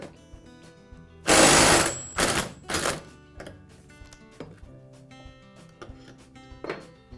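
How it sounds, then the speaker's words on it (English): An impact wrench removes the clutch from a Poulan chainsaw, giving three short loud rattling bursts close by, the first the longest, followed by quieter clicks and handling sounds. "use my impact to remove it in a clockwise rotation"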